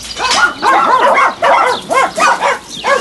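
Several dogs bark and yip in rapid, uneven bursts at a ranch house that is home to many cats and dogs, loud and close with short gaps between volleys.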